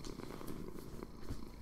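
A cat purring in the Minecraft video game, a steady, close, low rumbling purr that runs continuously with no voices over it.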